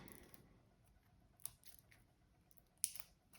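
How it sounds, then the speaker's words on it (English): Scissors cutting into the tightly packed cardboard packaging of a board game, giving two sharp, close snips a second or so apart over an otherwise quiet, still room. "I'm going to have to use scissors to get into this because, honestly, it is very tricky."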